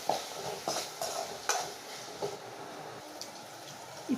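Onion and tomato sautéing with salt in a pan, with a soft steady sizzle under repeated spoon scrapes and light clinks against the metal, close and moderately quiet.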